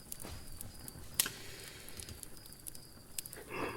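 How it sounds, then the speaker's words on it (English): A crackling fire heard on its own as a soft, steady bed of scattered small pops and snaps, with a few sharper cracks standing out. "Sound of a crackling fire, because it's always nice ending with this."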